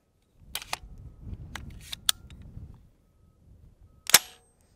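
Suppressed .22LR rifle shots through a Dead Air Mask suppressor, sharp dry clicks and cracks, a few spaced reports with quiet mechanical rattling between them and one stronger crack near the end.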